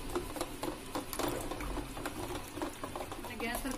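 Gram flour is stirred into set homemade yogurt in a bowl, with a rapid, rhythmic patter of soft clicks and scrapes. A voice speaks over the stirring.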